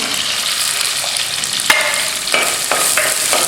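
Sliced onion sautés in a pan for chicken chukka, a close, loud sizzle broken by scraping stirs and a few sharp spatula knocks against the pan.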